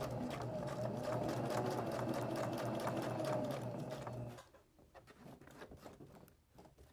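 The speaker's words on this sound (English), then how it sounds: "I'm going to just stitch this label right onto the front of the purse." A sewing machine runs a steady straight stitch, attaching a label to the front of a purse made from a necktie, a fast even whirring close by that stops abruptly, leaving only faint handling noise.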